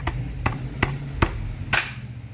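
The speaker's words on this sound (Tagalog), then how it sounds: "Para matanggal siya, pupukpukan natin siya pababang ganito." A Gille GTS v1 helmet being tapped downward to loosen its foam liner gives five sharp knocks at an even pace, close and crisp, the last one slightly louder, with no talk.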